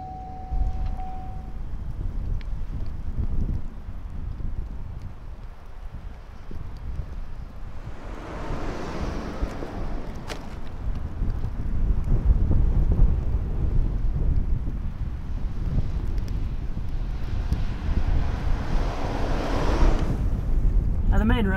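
Strong wind during a severe winter snow storm roars and buffets against the microphone, gusting louder midway and staying heavy, with a voice talking faintly underneath.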